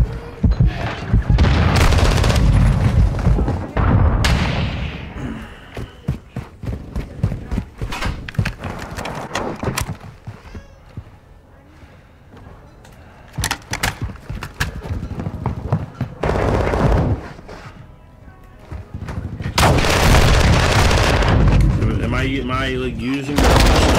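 Heavy gunfire in the video game Call of Duty: Modern Warfare 2, long loud bursts and rapid volleys with booming impacts, easing into scattered shots midway before intense firing returns, with game voices and chatter mixed in.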